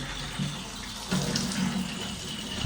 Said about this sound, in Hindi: मैं सबसे पहले भर रहा हूँ ये पानी की बोतल